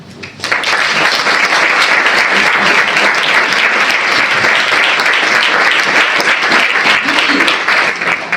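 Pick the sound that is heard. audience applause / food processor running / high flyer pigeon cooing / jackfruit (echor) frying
audience applause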